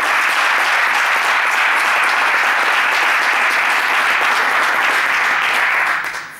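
Sustained, dense applause from a large crowd at an Izquierda Unida election rally in Alcobendas, steady throughout and tapering off at the very end.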